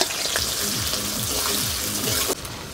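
Onions frying in hot oil for a Rupchand fish kalia give a close, steady hiss and crackle that cuts off abruptly near the end, with no voices.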